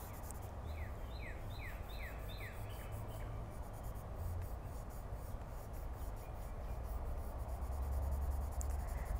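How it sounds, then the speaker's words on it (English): Colored pencil rubbing on paper while a dragon is colored in, a soft continuous scratchy scribbling that is quiet and close, with a few faint higher squeaks in the background. "you can either get a darker pencil or you can just color harder with your pencil"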